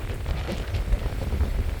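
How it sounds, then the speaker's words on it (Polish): Strong wind on a seaside promenade in Baška Voda, Croatia, buffets the microphone with a constant low, rumbling roar and brief gusty surges. "bo jest naprawdę wietrznie"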